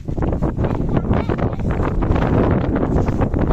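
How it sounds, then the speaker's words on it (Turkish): Strong wind buffets the microphone in steady, loud gusts at an outdoor picnic, a continuous low rumble with no clear voices. "Rüzgar esiyor."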